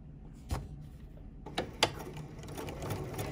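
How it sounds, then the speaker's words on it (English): A sewing machine stitching slow, careful lines through notebook paper for a decorative book, a few sharp clicks then a low mechanical rattle of stitching starting up close. "And now I'm just gonna stitch."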